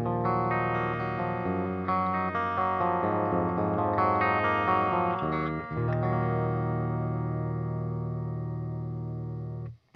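An electric guitar with its pickup in series mode plays sustained chords with a thick, full tone, ringing out and fading at the end.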